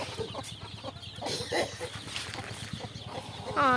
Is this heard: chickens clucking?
yes